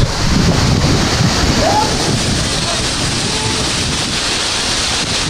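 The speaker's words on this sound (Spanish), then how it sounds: "Es como que el agua bajando de la montaña y viene de pozo en pozo" Mountain water tumbling down from pool to pool near Barahona in the Dominican Republic, a loud, dense, continuous rushing wash close by, with wind buffeting the microphone.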